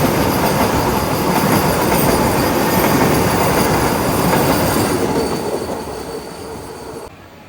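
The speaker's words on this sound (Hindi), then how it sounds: "तो अपनी ट्रेन डोए वाला से निकल चुकी है" The Mussoorie Express from Dehradun to Delhi rolls onward after leaving Doiwala station, a loud continuous rumble of wheels on rails that gradually fades toward the end.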